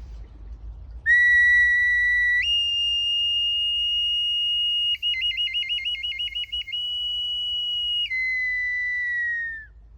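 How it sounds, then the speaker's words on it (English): A shrill, steady shamanic whistle sounds alone for several seconds, owl-like, shifting pitch and warbling rapidly in the middle before sliding down and fading. "this little instrument here, the shamanic whistle, and it makes a noise very much like this."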